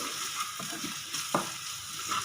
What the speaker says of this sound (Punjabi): ਇਹਨਾਂ ਸਾਰਿਆਂ ਨੂੰ ਮਿਕਸ ਕਰ ਲਓ